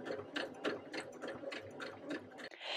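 A sewing machine stitching an appliqué letter onto a towel with closely spaced stitches, giving a quiet, rhythmic ticking and clattering of the mechanism at a steady pace without talk.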